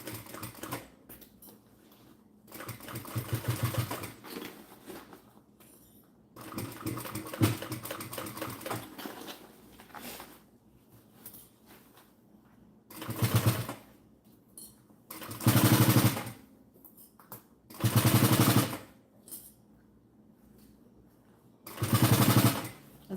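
A sewing machine stitches through thick leather on a messenger bag in repeated loud, rapid bursts of a few seconds each, separated by quiet pauses, close and alone.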